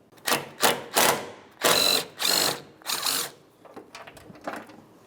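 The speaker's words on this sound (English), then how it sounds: "Now I can take a 10mm and a short extension and make my way all the way down to that mounting bolt." A 10mm socket ratchet on a short extension works a mounting bolt loose during hood hinge replacement on a 2012-2015 Honda Civic, giving bursts of rapid clicking ratchet strokes, about eight close, loud runs with brief pauses between.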